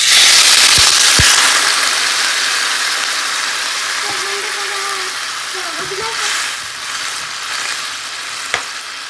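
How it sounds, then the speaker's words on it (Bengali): Water hits fried papaya and potato in a hot pan, sending up a loud, hissing sizzle that slowly settles, with a few sharp clinks of a utensil along the way. "এবার এর মধ্যে দিয়ে দেবো জল"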